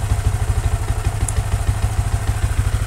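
Motorcycle engine warming up and idling during live tuning, a close, loud, steady low thumping putter with an even rhythm and no talk.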